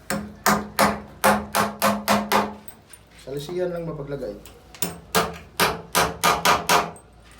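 A hammer taps in quick rhythmic bursts during construction work involving epoxy bonding. Someone speaks briefly in the pause, then the sharp close-up taps resume.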